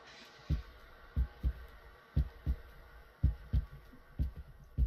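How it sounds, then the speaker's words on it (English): Footsteps in the horror video game Layers of Fear thud like a heartbeat, landing as deep, muffled paired thumps in a steady walking rhythm over quiet ambience. "My foot sounds like a heartbeat when I walk."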